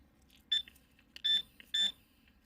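A Minelab Equinox 800 metal detector sounds three short, high electronic beeps in quick uneven succession, clear and close over faint background hiss.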